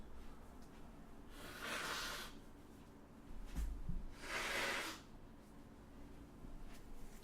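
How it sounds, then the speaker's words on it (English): A person blowing their nose: two fairly quiet, breathy, hissing blasts a couple of seconds apart, each lasting close to a second, with no talking. "I need to blow my nose"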